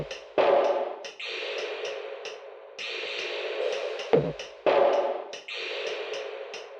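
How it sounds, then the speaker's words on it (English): Dry drum crashes with no Basslane Pro or other effects: three sharp hits, each followed by a bright sustained wash with a high ringing tone, plus a short low thump near the middle, played alone. "Without Basslane Pro and without effects, they sound like this."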